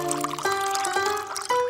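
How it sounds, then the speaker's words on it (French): A watermelon and Fanta drink runs from a small tap into a glass in a steady, close pour, its pitch climbing in stages as the glass fills. "Et maintenant, on sert un verre."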